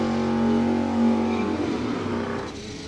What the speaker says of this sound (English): Bob Coding finishes his burnout in the left lane.